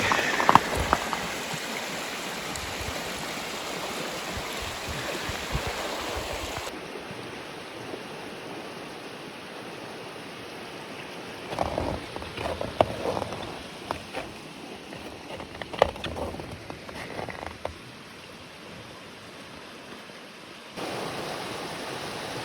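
Bear Creek flows in a continuous broadband rush of water along a hiking trail, steady and close, with a few brief knocks and shifts in level partway through.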